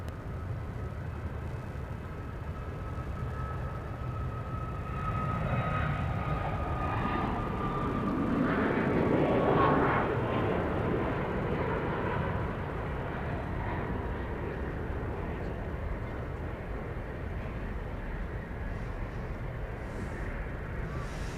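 An airplane at Dallas Love Field airport, a broad engine roar that swells to a loud peak midway and then recedes to a steady distant rumble, heard alone without talk.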